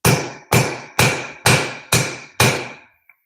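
Six evenly spaced hammer blows strike something hard and ringing, about half a second apart, loud and close with a sharp metallic ring and short decay after each hit, then silence.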